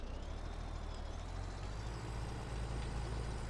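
Heavy-haul T800 truck engine in Farming Simulator 17, a steady low diesel rumble idling continuously at close range, with a faint high whine layered above and no talk.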